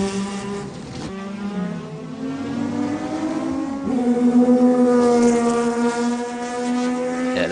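A Kudzu Mazda race car pulls out of the pits at the 1995 Le Mans 24 Hours, its engine note climbing through gear changes with a loud, close, rising harmonic whine over about seven seconds, no speech.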